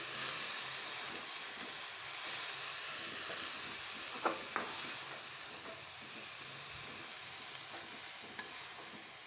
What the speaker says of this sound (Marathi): आता आपल्याला हे खालीवर मिक्स करून घ्यायचं आहे चांगलं